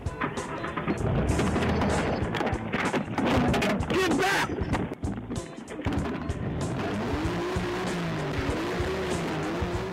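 A Porsche engine starts and revs hard, then the car pulls away in a loud, continuous roar that shifts pitch as it accelerates, with people talking over it.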